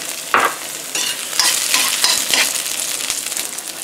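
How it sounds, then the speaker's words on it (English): Garlic sautés in a hot frying pan, a steady sizzle broken by the scrape and clatter of stirring, close and alone with no talk. "Saute up the garlic"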